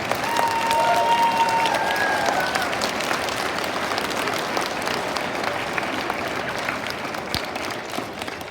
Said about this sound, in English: Students, parents, staff, please give yourself a round of applause for this wonderful team.